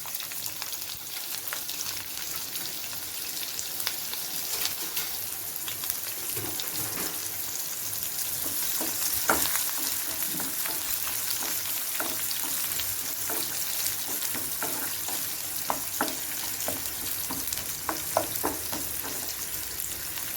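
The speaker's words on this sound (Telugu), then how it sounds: "కొంచెం జీలకర్ర కొంచెం ఆవాలు కొంచెం మినపప్పు వేసుకోవాలి అవి కొంచెం ఆడిన తర్వాత ఉల్లిపాయలు వేసుకోవాలి" Onions frying in hot oil with cumin, mustard seeds and urad dal for a cabbage fry: a steady, close sizzle runs throughout, dotted with sharp seed pops and crackles, with no talking.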